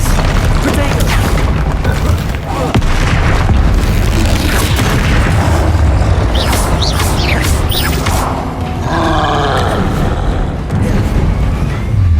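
Bombarda spell blasting in Hogwarts Legacy, a loud booming explosion amid continuous dense combat noise, whooshes and crashes, with a voice calling out in the middle of the action.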